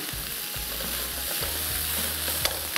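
Chicken with onions and green chilies fries in a very hot pan for ginger chicken, giving a close, steady sizzle broken by a few scraping stirs and light clinks.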